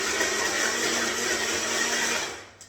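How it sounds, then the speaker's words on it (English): A blender blade whirs steadily at close range as it churns marshmallows into a Spider-Man themed smoothie, one continuous loud run that winds down and cuts off at the end, with no talking. "You heard the blade catching the marshmallows then"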